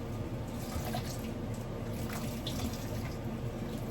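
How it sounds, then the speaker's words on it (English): Water squeezed out of wet beeswax trickling and dripping steadily into a container up close, a continuous wet splashing with no talking. "I'm gonna squeeze all the water out of it"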